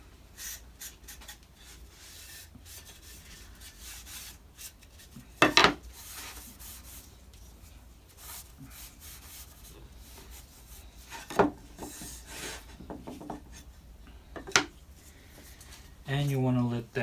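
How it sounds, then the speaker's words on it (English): A rag rubs excess finish off a wooden wine bottle holder in steady scraping strokes, close and moderately loud, with a few sharper knocks along the way and a low thump near the end. "wipe off the excess, whatever the first coat or whatever the wood doesn't soak in. you'll want to wipe that off."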